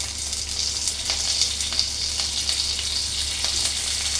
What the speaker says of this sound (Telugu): ఇవన్నీ కూడా మంచిగా ఫ్రై అవ్వాలి